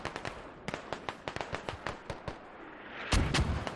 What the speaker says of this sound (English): Mortars are coming in a little bit too late and a little bit short.